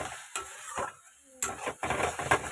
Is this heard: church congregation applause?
no